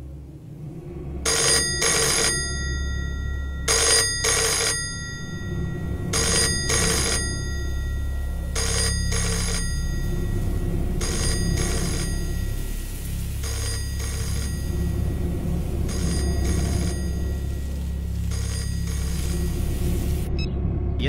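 A telephone rings repeatedly on an unanswered call to a police check post, the electronic trill sounding in regular paired bursts over a low steady rumble.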